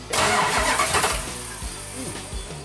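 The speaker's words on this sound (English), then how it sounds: "We've got a remote starter here and the key is on." A car engine, started by remote starter, cranks briefly, then catches and settles into a rough idle, close up with no talking.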